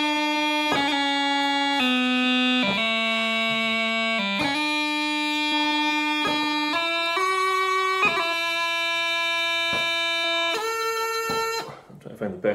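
A bagpipe plays a short practice phrase of two bars, with shifting melody notes over a constant drone, loud and close, ending abruptly. No one speaks.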